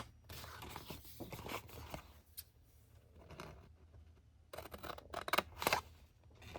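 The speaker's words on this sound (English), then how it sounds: "I am going to cut them off with scissors," Scissors cut through a folded paper bag in a craft project, producing intermittent crisp snips and rustling scrapes, close and quiet, with a busier burst of cutting near the end.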